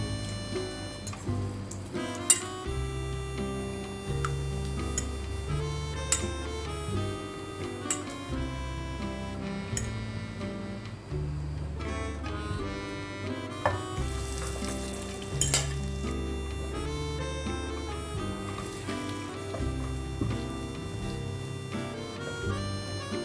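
Egg-dipped bread slices frying in a pan for cheesy toast, a steady soft sizzle running throughout with occasional light clicks and utensil taps, under a continuous background music bed.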